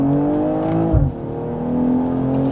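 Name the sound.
BMW 440i accelerating with fast Steptronic gear shifts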